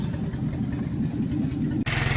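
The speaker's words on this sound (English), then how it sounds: "Running engine." A car engine runs steadily at a swap meet, a low rumbling idle close by amid outdoor background noise, cutting to a slightly different engine tone near the end.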